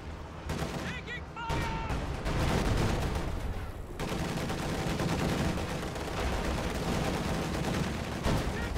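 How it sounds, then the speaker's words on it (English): Dense, continuous gunfire and heavy shots ring out in a World War II video game battle as IS-2 tanks fire on Volksgrenadiers, loud and sustained with overlapping bursts throughout. "IS-2's firing at Volksgrenadiers"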